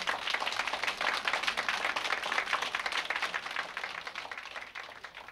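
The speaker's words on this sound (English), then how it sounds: "and the crowd began to clap." A crowd claps in a dense, steady patter of many hands that stays fairly even for about four seconds, then thins and softens toward the end, with no voices over it.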